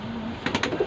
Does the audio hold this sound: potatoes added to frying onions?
no